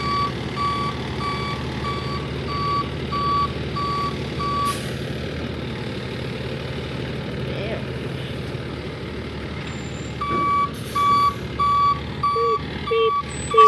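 Reversing beeps from a truck or tractor repeat in a steady, evenly spaced run, pause briefly midway, then resume, set over a low engine rumble, with a few louder knocks near the end.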